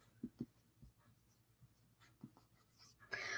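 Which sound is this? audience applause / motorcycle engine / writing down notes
writing down notes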